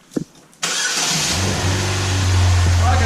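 A car engine cranks and catches, then settles into a loud, steady idle close by, with a brief voice just before it turns over.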